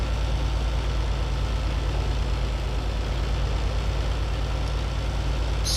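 A tractor in Farming Simulator 22 labours under a heavy weight overload, its engine droning steadily, loud and constant with a low rumbling hum and no letup.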